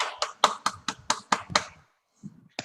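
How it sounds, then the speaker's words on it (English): Group of people applauding a guest speaker at an online forum, with seven sharp, evenly spaced claps in quick succession, then a short pause and a couple of softer claps. "Give a big clap to him"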